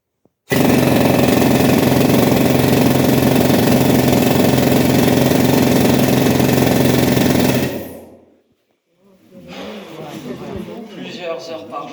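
A pneumatic rock drill at a historic mining museum hammers loudly and continuously for about seven seconds before stopping abruptly, followed by a brief silence and then people talking.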